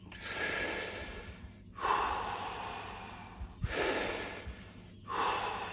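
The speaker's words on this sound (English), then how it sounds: "I like to control my breath lustily, like this, lustily" Controlled forceful breathing before a cold plunge: three sharp, loud inhale-exhale cycles in a steady rhythm, close to the mic, with no speech.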